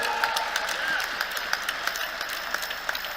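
Audience applause after a question at a live debate on God and religion, a steady patter of many hands clapping at moderate distance, continuous and unbroken with no voices over it.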